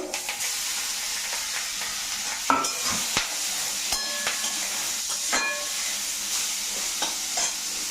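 Green chillies and vegetables fry in a pan for a spinach and lentil-dumpling curry, a steady sizzling hiss with occasional sharp clinks and scrapes of a utensil against the pan.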